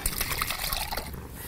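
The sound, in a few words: pouring dissolved tamarind gravy mix into the pan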